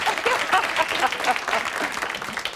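Studio audience applause breaks out at a television interview with Sarah Ferguson, a moderate wash of clapping that holds fairly level across the moment, with some voices mixed into it.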